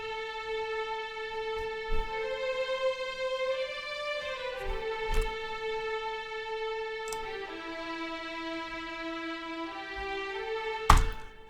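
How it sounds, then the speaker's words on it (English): A solo string melody from an East West Hollywood Strings library patch, in a cinematic 2000s style, plays as sustained bowed notes that glide from pitch to pitch, with a few soft thumps along the way and a sharper hit near the end. "this is a patch from the Hollywood Strings library by East West"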